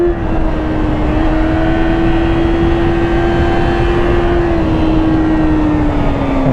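A Yamaha R6 sport motorcycle engine screams at high rpm in a sustained, loud, near whine whose pitch holds steady and then dips slightly, set against strong wind rush.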